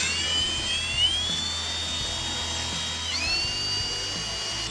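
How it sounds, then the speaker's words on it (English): A drill whines through a Volkswagen Bus engine part while the wrist pin bushings are replaced, a steady high-pitched tone that rises and dips as the speed changes, over a low hum. "Reducing the pressure as I slow the drill speed, because I just want to go through"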